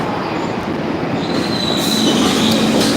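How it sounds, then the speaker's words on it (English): A train passes close by, loud rumbling railcars with high-pitched wheel squeal building toward the end, steady and dominant with no talk. "Oh, because there's a train right behind it."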